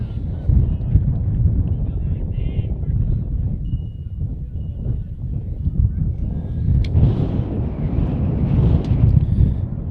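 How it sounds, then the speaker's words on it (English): Wind blowing across an outdoor varsity high school baseball field on a cold day, a continuous loud rumbling gust that buffets the microphone and swells toward the end. "Wind is definitely picking up here."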